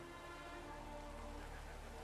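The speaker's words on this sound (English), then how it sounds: "It's a rainy day." Steady rain falls in The Witcher 3, a constant dense hiss of drops with no breaks, filling the background evenly.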